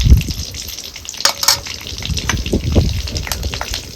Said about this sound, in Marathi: जसं जसं तेल गरम होतं का नाही तसा कढीपत्ता चांगला तळून निघतो तेलात.